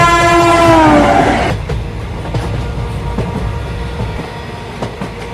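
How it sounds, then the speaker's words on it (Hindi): Train pulling out of a railway station, a horn blast at the start giving way to steady rolling rumble and rhythmic clacking of wheels, loud and close with no speech. "फिर कुछ ही देर में ट्रेन खुल जाती है।"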